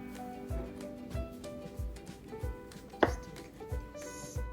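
Knife slicing scooped fruit flesh into cubes on a board, a steady series of roughly ten soft, thudding chops at an even rhythm, with one sharper knock midway.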